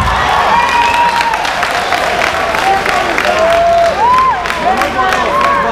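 Audience at a comedy concert clapping and cheering, a dense continuous wash of applause with shouts and whoops mixed in, loud and steady throughout.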